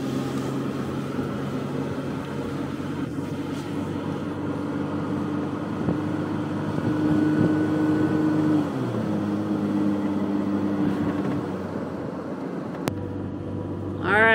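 A camper van drives along a high Andes highway in central Peru at over 15,000 feet, giving a steady engine drone and road rumble that shifts in pitch midway, with a sharp click near the end.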